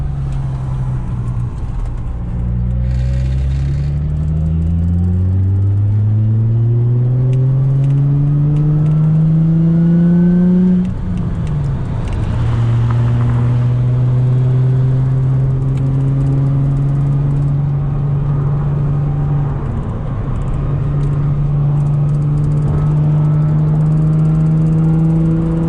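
A Nissan 350Z accelerates hard while merging onto a freeway, its engine note climbing steadily through the gears. There is a brief drop at each shift before it pulls again, loud and close from inside the car.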